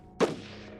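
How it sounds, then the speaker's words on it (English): A single sharp gunshot from a siege battle in the strategy game Shadow Empire, a loud close crack that trails off into a long fading reverberant tail, with no voices. "Opening fire."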